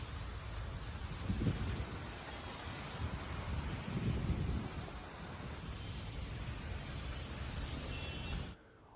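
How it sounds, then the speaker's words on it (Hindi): Heavy rain pours steadily over Gurugram, a dense broad hiss with two low, rolling thunder rumbles partway through, before the sound cuts off abruptly near the end. "पिछले कई घंटों से जो बारिश हो रही है"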